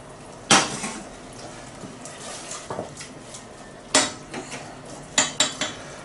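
Metal utensils clank and scrape against a pot while fish risotto is stirred and stock ladled in, several sharp knocks between quieter scraping, close by with no talking.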